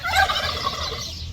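A turkey gobbling on a poultry farm inside a Saudi date orchard, one loud close rattling gobble call that trails off over about a second.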